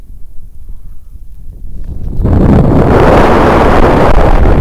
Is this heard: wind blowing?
yes